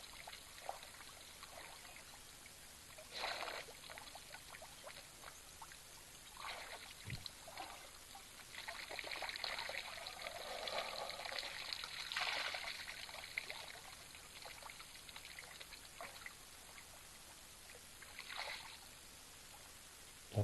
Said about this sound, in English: Another young bull enjoying a drink.